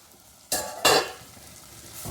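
Curry leaves and fennel seeds drop into hot oil, setting off two sharp, loud sizzling bursts in quick succession that fade into a softer, steady crackle.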